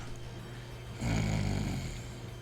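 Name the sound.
person imitating snoring into the microphone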